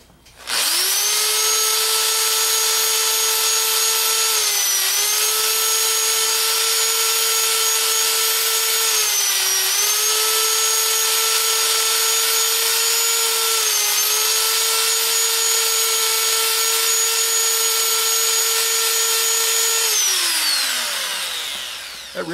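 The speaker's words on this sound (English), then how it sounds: "And let's sand this a little bit." A Harbor Freight drill fitted for sanding whines steadily while smoothing a wood piece with glue-filled cracks; the loud, close motor tone sags briefly under load several times, then winds down at the end.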